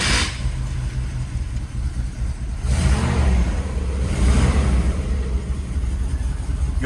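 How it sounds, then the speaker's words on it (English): A classic car at a riverside summer cruise-in starts up, then its engine runs and revs, rising in two surges before settling into a steady, fairly close rumble. "this car will start easy even if it's been sitting for like a week"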